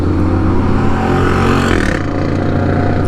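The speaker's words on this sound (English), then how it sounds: "I did put my exhaust back on. It's just a little loud right now." A loud Suzuki GSX-S750 motorcycle engine drones close by with a brief surge in pitch, then eases off, harsh exhaust tone throughout, no talking.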